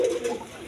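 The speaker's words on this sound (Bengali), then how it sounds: "এখানে এক পেয়ার কোকা আছে, দেখেন কোকার ডাকটা আছে খুব" A pair of Koka pigeons coos, a short soft call heard close and alone.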